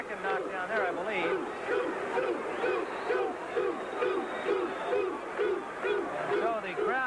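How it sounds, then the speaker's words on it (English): A boxing arena crowd of Thomas Hearns fans chants in a steady, repeated rhythm, loud and sustained throughout, with a dense roar of voices beneath the cadence. "the crowd here of Hearns fans chanting 2-2-2"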